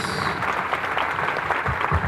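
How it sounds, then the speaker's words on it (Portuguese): A church congregation claps together in a dense, steady patter of applause, filling the room for two seconds. "Aplaude Jesus."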